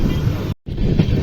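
Onboard the Panchaganga Express, train number 16595, near Hasan Junction: a loud, steady rumble of the moving carriage with wind rush, briefly cut by a moment of near silence midway.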